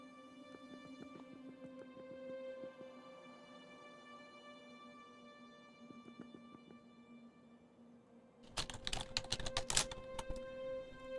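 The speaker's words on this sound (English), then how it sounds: "Sorry if you hear my keyboard clicking and a clacking." Computer keyboard keys click and clack in quick bursts over a steady electronic hum from a game, with a louder flurry of rapid typing near the end.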